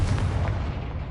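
A Confringo spell explosion in the Hogwarts video game, a single loud, close, low booming blast with a rumbling tail that fades over about a second.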